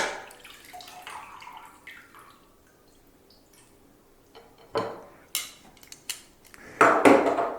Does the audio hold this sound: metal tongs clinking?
yes